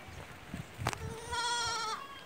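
A horned billy goat on a grandfather's farm gives one wavering bleat, moderately close, after a brief thump, with faint outdoor background.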